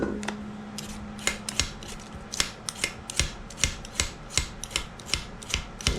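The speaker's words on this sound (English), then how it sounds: "Whenever I'm peeling a potato, I like to put one end down just like this." A potato being peeled on a table with one end set down, a steady series of sharp scraping strokes about twice a second, close and fairly loud, with no talking.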